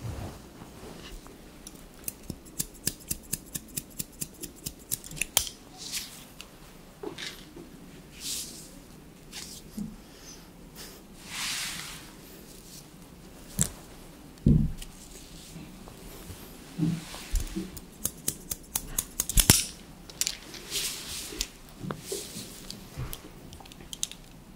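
Scissors cut hair during a close-miked haircut and colour session, making crisp, rapid snipping bursts and soft rustles, intermittent and near, with brief quiet talk between cuts.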